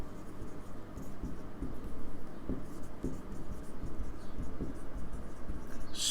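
Handwritten notes on paper, a soft continuous scratching of pen strokes with small taps, faint and close, under a quiet low room hum while a voice speaks in Hindi.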